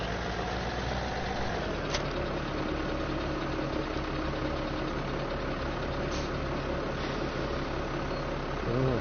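Tractor engine idling in Farming Simulator 17, a steady low mechanical drone that holds at an even level throughout, with a couple of brief faint clicks over it.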